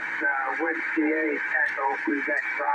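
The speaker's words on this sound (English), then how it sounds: "Turn the RF gain down, lower the white noise" A DX394 radio receiver with an MLA-30+ loop antenna gives off a steady hiss of static, with a faint voice coming through the noise.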